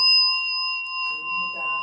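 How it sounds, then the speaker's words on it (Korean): A bell rings during a Buddhist lecture, one clear struck tone that hangs in a long, steady hum, while a faint voice murmurs underneath toward the end. "저건 종소리다"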